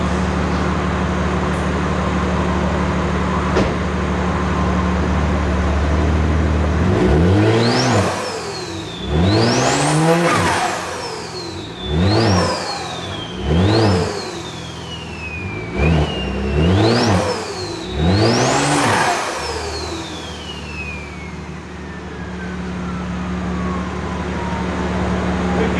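BMW G80 M3 with a flash tune revving at standstill: a steady idle breaks into a series of sharp, loud blips, each climbing fast and falling back, about six in a row, then settling to idle, close and alone.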